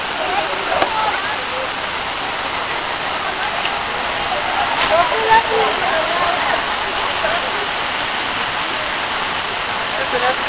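A waterfall roars in a steady, loud rush of falling water that continues unbroken throughout.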